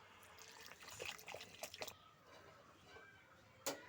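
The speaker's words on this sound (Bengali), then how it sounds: "এবার আমি দিয়ে দিচ্ছি পরিমাণ মতো ডালের মধ্যে জল।" Water is poured into mashed moong dal being made with a fish head, a soft close trickle and splash in short bursts, faint and quiet with a small knock near the end.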